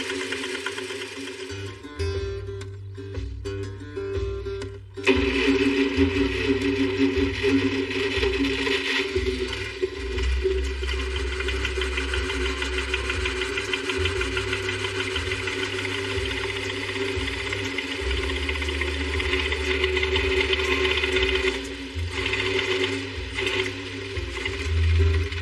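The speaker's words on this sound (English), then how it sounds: "Two cylinders were missing. You can hear it." A Studebaker engine with a bad starter switch runs rough with two cylinders missing, a steady uneven mechanical chatter and drone lasting throughout, close and fairly loud, with no talking.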